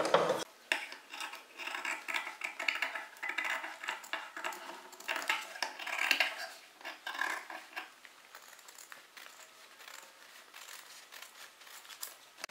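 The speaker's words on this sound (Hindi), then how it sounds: "और अब इन दोनों निशानों की कटिंग कर लेंगे।" Scissors cutting fabric along marked lines for a collar pattern: a series of close, irregular snips and rustles that grow quieter and sparser toward the end.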